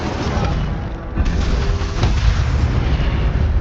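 Incendio fire spell cast in the Hogwarts Legacy video game: a dense, loud roaring whoosh of flame with low rumbling bursts that holds steadily throughout, swelling slightly partway through.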